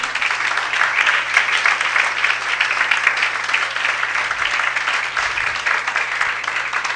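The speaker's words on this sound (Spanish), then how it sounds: "Denle un fuerte aplauso al Señor." A church congregation applauding during a worship service, steady dense clapping at even loudness throughout, with a low hum underneath.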